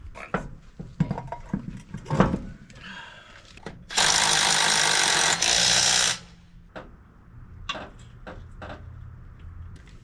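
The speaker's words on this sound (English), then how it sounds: "we're going to torque the lug nuts to, probably going to torque them to 95 foot-pounds" Lug nuts being torqued on a 2nd-generation Toyota 4Runner wheel: a loud, steady two-second whir from a power tool, with scattered clicks and clanks of handling before and after.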